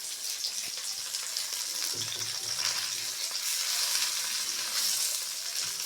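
Pithe pastries deep-frying in mustard oil, a steady broad sizzle running throughout with a brief low bubbling in the middle, close and continuous with no voices.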